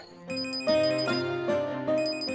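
A phone rings with a melodic electronic tone in a scene from a Marathi TV serial. It is a short burst of repeating notes, clear and up close, with no one talking.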